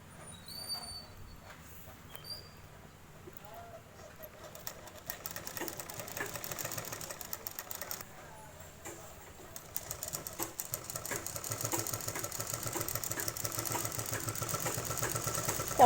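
A sewing machine stitches the closing seam of a shirt, running in continuous fast mechanical bursts that speed up and grow louder toward the end, with no voices.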